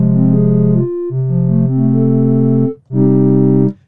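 A wavetable synthesizer on its default patch plays sustained chords with rich harmonics, three held notes separated by brief gaps, loud and close with no voices.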